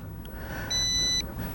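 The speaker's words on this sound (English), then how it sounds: "It beeps, we're all good." LSRC S7S budget drone giving a single half-second electronic beep, a clear steady tone over quiet background noise.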